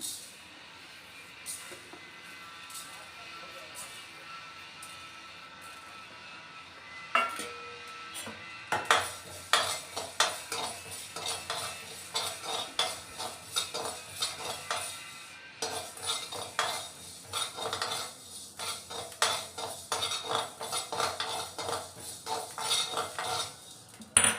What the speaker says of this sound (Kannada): ಮೆಣಸು ಹುರ್ಕೋತಾ ಇದ್ದೀನಿ